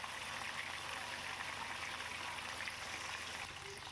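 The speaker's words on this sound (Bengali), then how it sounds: "এবার কড়াইতে পরিমাণ মতন সর্ষের তেল দিয়ে আমি মাছগুলোকে ভেজে নিচ্ছি" Small charapona fish fry in mustard oil in a wok, giving a dense, even, close-up hiss that holds steady throughout.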